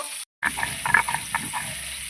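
A piece of fish sizzles steadily in hot oil in a home kitchen, a soft continuous crackle after a brief silent gap at the start, close and alone.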